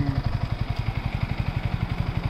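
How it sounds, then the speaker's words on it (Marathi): Motorcycle engine pulling away behind a market scene, with steady rapid exhaust pulses throbbing loud and close, then continuing evenly without fading much. "मागे मोटरसायकल निघाली"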